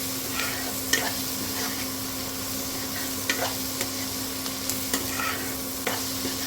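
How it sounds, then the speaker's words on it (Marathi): Turmeric cooking in a hot oiled pan for a village-style drumstick pitla, a steady close sizzle with occasional scraping stirs of a spoon against the pan. "हळद पण आपण छान शिजू देऊया तिथे कच्च पण निघून जाईल असं शिजून घेऊया"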